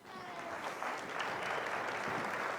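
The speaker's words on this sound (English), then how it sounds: "Give them a big round of applause." Audience applause fills a hall during a live pitch and magic stage show, a steady wash of many hands clapping that holds at an even level throughout the short stretch.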